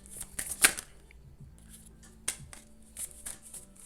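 Tarot cards are shuffled by hand in short, crisp bursts: a loud riffle near the start, then scattered quieter flicks and slides, close up with no talking.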